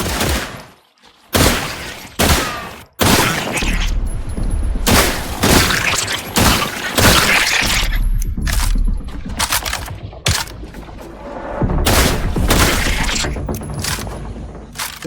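Loud gunfire in the survival video game The Last Caretaker, dense bursts of rapid shots coming in repeated volleys with brief pauses between them, close and dominant throughout.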